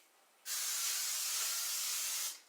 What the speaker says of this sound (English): I'm going to spray